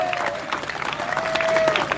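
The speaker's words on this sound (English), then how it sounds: "Give him a big round of applause." Applause at a Veterans Day speech event, with a crowd clapping steadily and moderately loud for about two seconds, dense and continuous, with some murmur mixed in.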